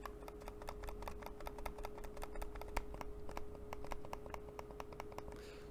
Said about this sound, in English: Let's hear the left and right click.